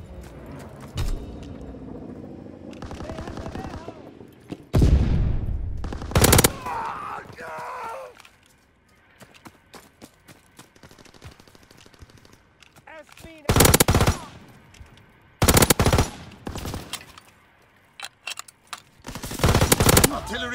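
A four-round burst-fire gun in a Call of Duty WWII team deathmatch, loud clustered bursts of gunfire repeating at intervals, with quieter game sounds and voices between them.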